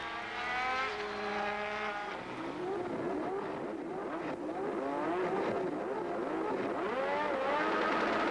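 1987 Formula One race car engines at the Belgian Grand Prix whine and rise in pitch as several cars pass at a distance, weaving to warm their tyres, with sweeping revving tones and no talk.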